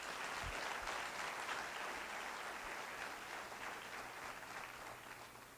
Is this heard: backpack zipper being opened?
no